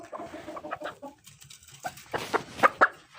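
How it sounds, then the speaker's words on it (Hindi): A hen clucks in a run of short, close calls, with the loudest squawks bunched at the end, while people move around in a farmyard coop. "अब इस मुर्गी को पकड़ते हैं"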